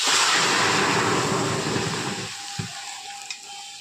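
Pressure-cooked dal with gourd greens hits a hot pan in a loud, steady sizzle that gradually eases and thins out, ending in a few faint clinks and spits.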